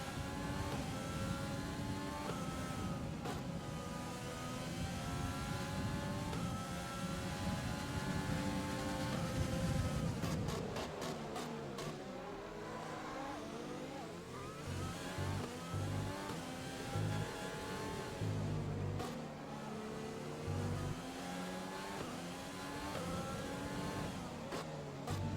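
An F1 race car engine from the F1 2020 racing game howls at high revs, climbing through the gears with quick upshift cuts and later dropping through downshifts, steady and loud with no talking.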